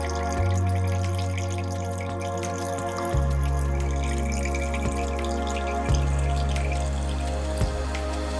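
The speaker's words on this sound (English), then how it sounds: "Strain the mixture into a glass." Hibiscus juice blended with carrots is strained into a glass, giving a steady trickle of liquid running and splashing close by, with a few brief drips and clinks, and no voices.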